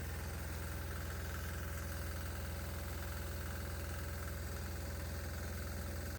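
Diesel engine idling while fed hydrogen-oxygen HHO gas, a steady low rumbling drone with a faint knocking rhythm, constant and close, no talk over it.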